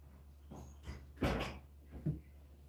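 A nearby door, likely a cupboard-style door, gives a few soft knocks and a closing thud in a quiet room, with a brief scrape and a second bump about a second later.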